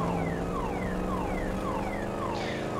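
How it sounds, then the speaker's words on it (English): A car alarm wails inside GTA V, repeating a rapid falling whoop over and over, steady and loud without pause, with engine and road noise underneath. "The car alarm's going off"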